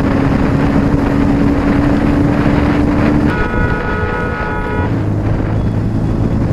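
A modified Bajaj Pulsar 220 motorcycle ridden at night gives a loud, steady engine drone that shifts pitch partway through as the ride goes on, with no voices.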